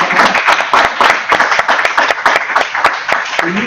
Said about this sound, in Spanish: lo recibo con un aplauso